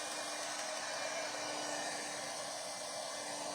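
A hair dryer blows a steady, even stream of air to dry wet paint on a winter stencil-and-transfer craft piece, held close with a constant whooshing hum throughout.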